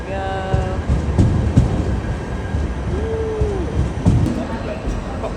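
A train arriving at a station rumbles steadily nearby with clanking rail noise, a brief squeal of brakes, and tonal horn or signal sounds early on.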